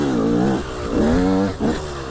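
A KTM 125 SX motocross motorcycle engine revs up and down in three quick, loud bursts close by, each climbing in pitch before dropping away.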